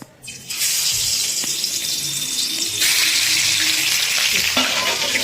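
Pieces of pangas fish, starting with the tail, dropped into hot oil in a pan on a gas flame, bursting into a loud, steady, close sizzle that rises and stays strong, with no talk.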